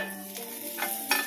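Butter melting in a hot pan while making garlic bread: a steady soft sizzle with brief scraping or stirring touches near the end, close by and fairly quiet, with no talking.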